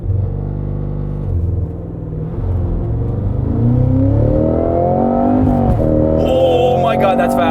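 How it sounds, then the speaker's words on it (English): A 2022 Cadillac CT5-V Blackwing with a manual gearbox launches under launch control. Its loud engine roars and climbs steadily in pitch through the gears, close and powerful. "2022 Cadillac CT5V Blackwing manual with launch control."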